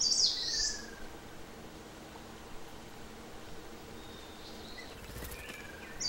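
A ruddy kingfisher calls at Jusanji pond in Korea during nesting season, with one clear, high call at the start and another brief call at the end, separated by a steady outdoor hiss.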